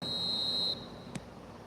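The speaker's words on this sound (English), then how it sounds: "There's the whistle." A referee's whistle in the eFootball video game gives one shrill, steady blast of under a second, followed by a short faint chirp against background crowd noise.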